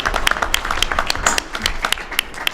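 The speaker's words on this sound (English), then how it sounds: "Could you give her a big round of applause?" A crowd at a Mayor's Night Out community meeting gives a warm round of applause for a middle school principal, with dense, steady clapping filling the room throughout.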